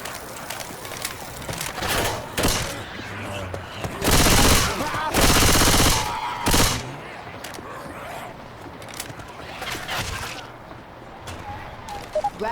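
Gunfire in Left 4 Dead 2 comes as scattered shots and several dense bursts of automatic fire, loud and close, mixed with game ambience and occasional voices.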